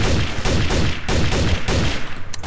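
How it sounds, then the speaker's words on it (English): Rapid bursts of gunfire from the multiplayer game Trouble in Terrorist Town, sounding as loud, continuous volleys that surge and pause at intervals with no voices over them. "Jess is the traitor, guys! She's shooting at me!"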